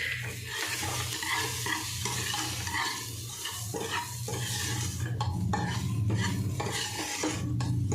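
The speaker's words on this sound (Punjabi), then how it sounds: "ਅਸੀਂ ਲਸਣ ਨੂੰ ਜ਼ਿਆਦਾ ਨਹੀਂ ਭੁੰਨ ਰਹੇ" Garlic fries lightly in a pan while a utensil stirs it, scraping and clinking against the metal in close, irregular strokes over a steady sizzle.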